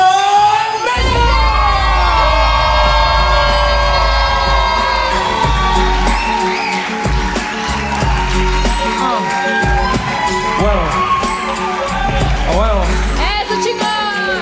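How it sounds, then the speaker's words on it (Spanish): Crowd at a fight exhibition shouting, whooping and cheering loudly as a fighter enters, with sustained yells and screams over booming music throughout. "Griten. ¡Aplaudan!"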